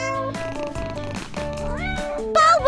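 A cartoon cat meows in a drawn-out, tonal, pitch-bending call with a higher whine near the end, loud and close over other busy sound.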